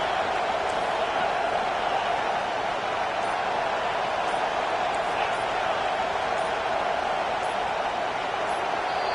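Loud, sustained roar of a stadium crowd making noise for the defense on third down at a Clemson versus Washington college football game, a dense steady wash of cheering and yelling throughout.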